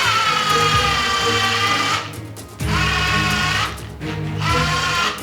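A cheap cordless drill with a nearly dead battery whines loudly at high speed, cutting out briefly twice and then spinning back up, its pitch sagging under strain.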